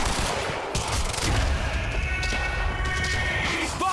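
Gunfire in the Quantum Break video game crackles in dense, rapid bursts over a rumbling combat background, fairly loud and continuous with no clear voices.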